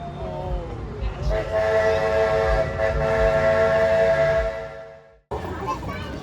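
At the Cedar Point amusement park, a train whistle blows loud and sustained for several seconds over a rumbling passing train, cutting off abruptly before the rolling noise returns.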